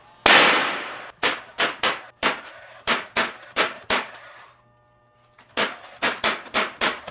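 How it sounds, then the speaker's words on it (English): A brad nailer fires nails into a cedar planter box: a steady run of sharp, close pneumatic snaps, about one every third of a second, then a short pause before another quick burst. "you also don't have to go crazy with brad nails"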